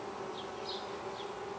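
Honey bees hum around an open beehive in a soft, steady buzz, with a few slightly louder passes as individual bees fly close.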